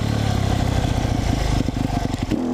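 A motorcycle doing a wheelie drills engine revving that holds a loud, steady drone and then breaks into rapid fluttering pulses as it comes off the throttle toward the end.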